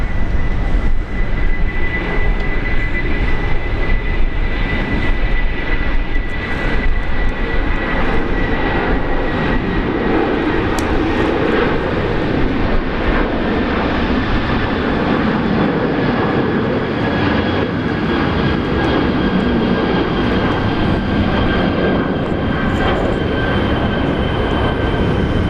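Airliner rolling for takeoff on runway 19 left at Brisbane Airport, a loud steady roar of jet engines with a rising whine, heard from the airfield throughout.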